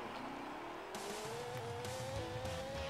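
A motorcycle accelerating in the Sega Saturn racing game Hang On GP'95, its synthesized engine tone rising steadily in pitch with hiss and skid-like game sounds layered on top.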